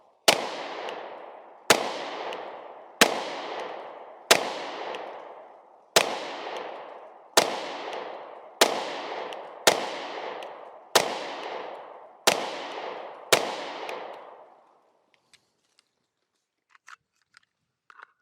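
Eleven sharp pistol shots from a Sig Sauer P320 fired at a target ring out at an even pace, each loud crack trailing off before the next, then near silence with faint small clicks.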